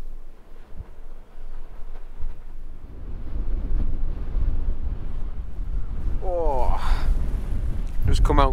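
Strong, biting wind buffets a microphone outdoors at a small mountain bothy at dusk, a loud, steady low roar that swells over several seconds, with a voice heard briefly near the end.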